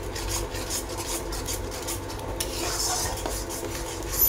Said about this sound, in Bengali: ফেটিয়ে রাখা দইটা আমি মিক্স করে দিলাম এর মধ্যে।